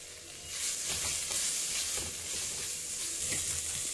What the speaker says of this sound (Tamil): ஆட் பண்ணிவிட்டு இதை நல்லா வணக்கி விட்டுடலாம்.